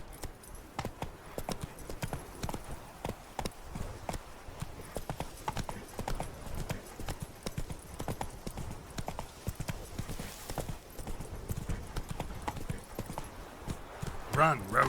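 A horse gallops in The Witcher 3: Wild Hunt, its rapid hoofbeats clip-clopping steadily and close for the whole stretch while a voice talks over the game sound.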